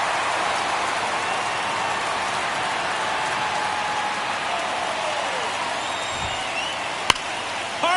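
A steady stadium crowd roar from the baseball video game MLB The Show, a loud unbroken wash of noise throughout, with a faint sharp crack near the end.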